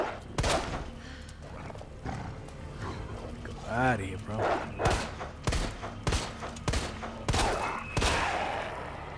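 Bursts of gunfire in Resident Evil 2 Remake, several sharp shots spaced irregularly over game ambience, with a voice talking between them.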